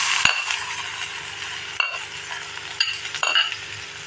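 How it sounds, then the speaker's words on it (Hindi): Chopped onions dropped into a pan with cumin, green cardamom and cinnamon, frying with a steady sizzle broken by a few sharp clinks and scrapes of a utensil against the metal, close and with no talk. "अब मैं इसके अंदर प्याज ऐड करूंगी"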